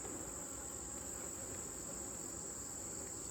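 Honeybees buzz around an open beehive in late-season goldenrod flow, a steady close droning hum with a constant high whine, without talk.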